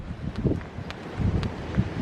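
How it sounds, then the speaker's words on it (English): Gusty wind buffets the microphone in low rumbling surges, with faint rustling underneath and no voices. "It's so windy out there."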